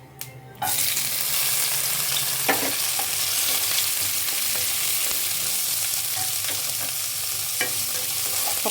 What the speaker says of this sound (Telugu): ఇప్పుడండి ఇందులో ఉల్లిపాయలు పచ్చిమిరపకాయలు వేస్తున్నానండి